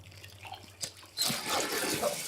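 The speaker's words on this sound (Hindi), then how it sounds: "पानी बंद कर।" Water pours steadily in a tense film interrogation scene, a faint trickle giving way to a louder, sustained rush that runs to the end with no voices over it.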